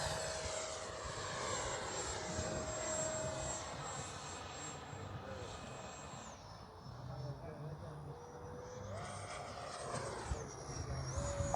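An 80mm ducted-fan RC model jet, an A-6, whines overhead, its turbine pitch rising and falling as it passes, steady and fairly distant throughout.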